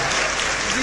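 An audience at a Hindi comic poetry gathering claps loudly, a brief, dense burst of applause close by that fills the moment.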